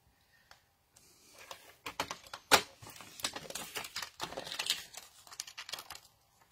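Scissors cut through a piece of paper for a handmade mini album, a run of close, crisp snipping and crinkling rustles after a quiet start.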